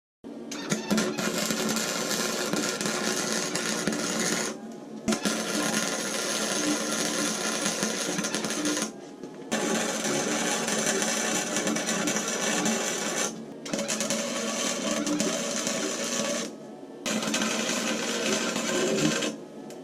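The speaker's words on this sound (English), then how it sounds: "It's a 110 amp gasless flux wire welder." A 110 amp gasless flux-core wire welder runs steady, loud crackling bursts while welding sleeves onto motorcycle exhaust pipes, with four or five long arcs broken by short pauses and no talking.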